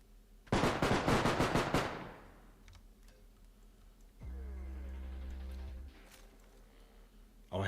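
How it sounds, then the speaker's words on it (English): Rapid burst-fire gunshots from a favorite rifle in a video game, a dense loud cluster of about eight shots early on, followed by quieter mechanical clicks and a steady humming tone. "this is the best gun. This is my favorite. It's like a 3-round burst."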